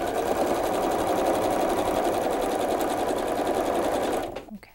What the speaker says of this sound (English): And now we're going to sew our last one together exactly as we've done before.